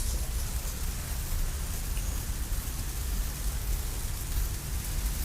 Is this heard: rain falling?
yes